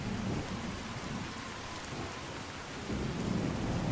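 Steady heavy rain with a low rumble of thunder fills the Fallout: New Vegas game world, a continuous wash of noise with the rumble swelling toward the end.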